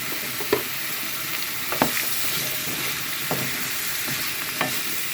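Yardlong beans and vegetables being stirred in a sizzling pan, with soft frying crackle throughout and several distinct clacks of the spatula scraping and tossing the food, no talking.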